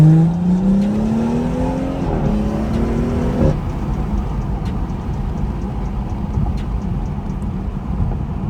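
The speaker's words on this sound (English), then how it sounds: "Really do like the way this car sounds." A loud, modified BMW B58 car engine of about 500 hp revs up with rising pitch for a few seconds, then settles into a steady rumbling drone.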